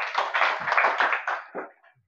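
A small gathering at a spiritual discourse gives a short round of hand clapping, a bright patter of claps that softens and trails off within about two seconds.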